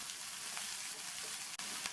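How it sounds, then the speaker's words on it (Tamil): A medium onion and five garlic cloves sauté in hot oil with a steady, close crackling sizzle, interrupted only by a brief clack near the end. "எண்ணெய் சூடானதும் அதில் கட் பண்ண ஒரு மீடியம் சைஸ் வெங்காயம், இது கூட 5 பல் பூண்டையும் சேர்த்து வதக்கிக்கணும்"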